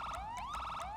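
A police car siren sounds in a roleplay video game, sweeping rapidly up and down in a repeating wail, loud and alone without talk.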